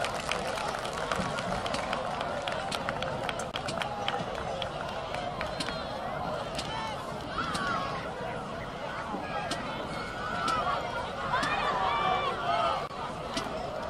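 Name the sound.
applause for Coach Sand's family at a football game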